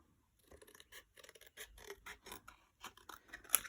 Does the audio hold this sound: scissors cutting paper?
yes